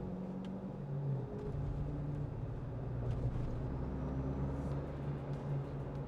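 A 2025 Toyota 4Runner Hybrid's engine hums with a low steady drone and rising turbocharger whine, heard faintly from inside the vehicle with no talking.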